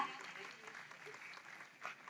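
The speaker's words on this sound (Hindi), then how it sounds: "ये एक बार और चाहूंगी जोरदार तालियां हो जाए" An audience at a hospital HPV vaccination campaign launch claps in a soft, steady wash heard from a distance, fairly faint with a slight swell near the end.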